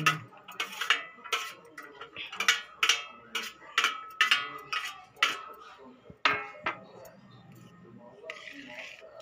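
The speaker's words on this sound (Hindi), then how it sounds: "अब इसको भी मिक्स कर लेते हैं।" A spoon clinking against a bowl while mixing a fruit salad of grapes and pomegranate seeds, a steady rhythm of close metallic taps that slows toward the end as a voice talks.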